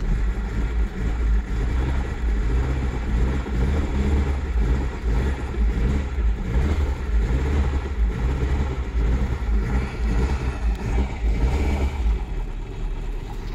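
A used automatic car engine idles after sitting parked for a long time, a steady low rumble with a faint rhythmic pulse, close and continuous with no talk over it.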